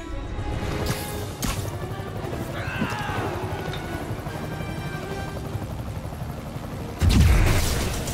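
Helicopter in the Marvel's Spider-Man video game, a low steady rotor drone under distant game effects, with a sharp thump early on and a heavier boom-like burst near the end.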